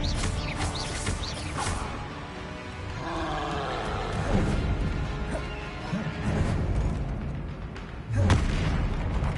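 Spell blasts from the Confringo fire spell in the Hogwarts Legacy video game, loud crashing booms and roaring impacts over a dense, continuous bed of game noise, with a heavy hit near the end.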